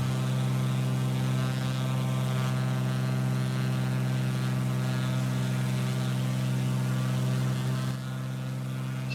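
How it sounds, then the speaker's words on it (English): Steady droning propeller engine of a Coronado flying boat in a flight simulator game, sounding like a small Rotax engine, with a constant tonal hum held evenly throughout and no talking. "This Coronado plane sound is off. It sounds more like a Rotax I'm flying."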